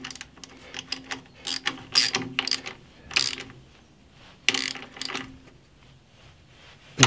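Sharp ratchet clicks come in quick bursts with short pauses, close and clear in a quiet workshop, as a part is tightened on a Toro eFlex Greensmaster 2100 reel mower.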